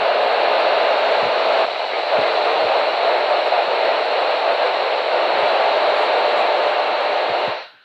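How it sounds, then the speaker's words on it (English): Steady, loud hiss of radio static from an amateur satellite radio receiver, broadband and unbroken for several seconds before cutting off abruptly at the end. "This is a static for you all to hear."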